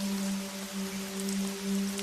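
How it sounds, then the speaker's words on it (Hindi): Steady rain falls on a dark, rainy night: a continuous, even hiss of rainfall with a low, droning musical tone beneath it. "ऐसी काली बरसाती रात में"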